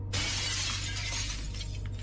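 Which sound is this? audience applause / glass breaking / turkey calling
glass breaking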